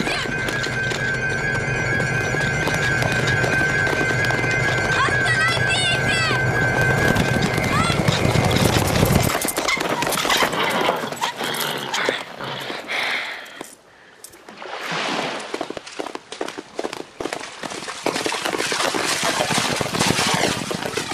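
Horses in a 1982 Soviet film gallop close by with quick, rumbling clip-clop hoofbeats and a whinny, heard under speech and music, then fading into scattered footfalls.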